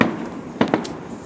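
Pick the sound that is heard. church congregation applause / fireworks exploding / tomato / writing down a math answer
fireworks exploding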